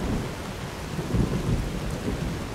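Thunderstorm in the video game Fallout New Vegas: a loud, steady roar of heavy rain with deep rolling thunder rumbles swelling through the middle, close and continuous, no voices.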